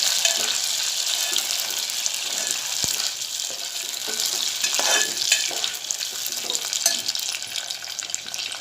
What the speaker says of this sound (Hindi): ये देखिए घी गर्म हो गया और उसमें मैंने शक्कर डाली हूँ और शक्कर पिघलाऊँगी।